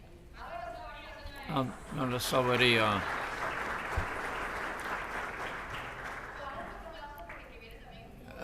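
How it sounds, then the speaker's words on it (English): An audience applauds at the Scotiabank CONCACAF League official draw. A speaking voice comes first, then a burst of steady clapping that fades as talk resumes. "Hold your applause"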